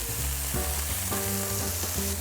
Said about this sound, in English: go ahead and flip the burgers and go ahead and start building it